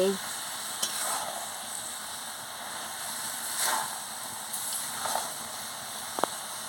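Grated coconut mixture for narkel naru is stirred in a hot pan as its water cooks off, giving a soft, steady sizzle with occasional faint scraping strokes; quiet and close.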